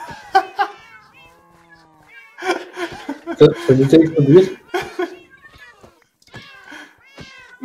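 Minecraft cats meowing in the game, several short high mews scattered across the span, with people talking and laughing loudly over and between them.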